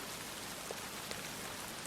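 Steady rain falling through a quiet night, a soft continuous hiss with a couple of faint drop taps on a surface, low and even throughout.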